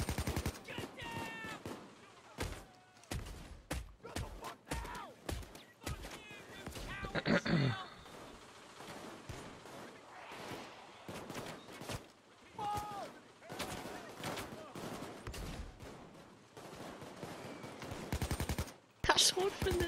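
Shotgun blasts in the video game Payday 2, a string of sharp, heavy shots fired in quick bursts and irregular clusters, loud against game sounds, with players talking over it.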